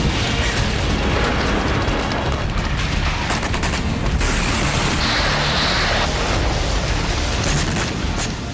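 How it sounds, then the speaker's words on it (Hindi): A Russian guided projectile strikes a Ukrainian T-72M1 tank near Zaporizhzhia, producing a loud, sustained rumbling blast with crackling bursts and pops that roar on for several seconds. "देखिए यहां कितना बड़ा धमाका हुआ। धमाके की वजह रूसी गाइडेड प्रोजेक्टाइल है।"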